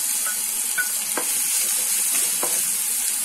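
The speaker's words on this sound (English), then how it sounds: "Now saute well." Onion and curry leaves sauté in hot oil in a pan, a steady loud sizzle with a few faint clinks of stirring, no voices.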